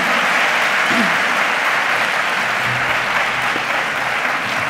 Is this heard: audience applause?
yes